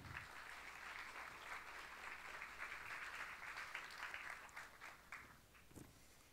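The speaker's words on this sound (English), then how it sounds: "Give her a warm hand of applause," Audience applause welcoming a woman lecturer at a talk on Hannah Arendt, a sustained, even patter of many hands clapping, faint and distant, tapering off near the end.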